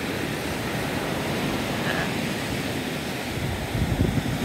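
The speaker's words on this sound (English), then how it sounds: "But lots of waves." Waves break over sandbars on a gray, cool winter beach, a steady roaring wash mixed with gusting wind noise, with heavier low thumps of surf near the end.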